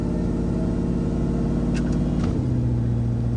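A car engine idles steadily, then its low hum drops and shifts pitch around a gear change into third, with a brief mechanical clunk from an imprecise shifter, loud and close throughout.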